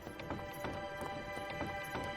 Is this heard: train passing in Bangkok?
no